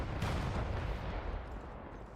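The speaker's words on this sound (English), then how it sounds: "Oh, those be some mortar strikes coming." Mortar strikes land in the online shooter Off The Grid, heard as a dense, continuous low rumble of blasts with a sharper impact near the start, steady and fairly loud, with no voices.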